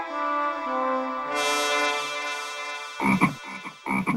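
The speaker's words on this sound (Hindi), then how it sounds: "मेंढक, मेंढक।" Loud croaking, a sustained buzzing call followed by a few short, choppy croaks near the end, close and clear, with no talk.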